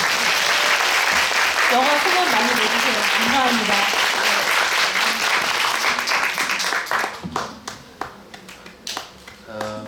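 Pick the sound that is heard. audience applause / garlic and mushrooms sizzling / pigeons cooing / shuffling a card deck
audience applause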